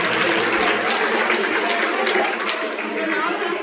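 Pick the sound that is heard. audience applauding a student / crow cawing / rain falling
audience applauding a student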